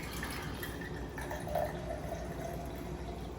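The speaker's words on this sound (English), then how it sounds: "So I'm just going to pour a bit out into here so that you can actually see that nice golden color." Calendula tea pouring from a container into a cup, a steady liquid trickle and drip running close and soft for about three seconds with no talk.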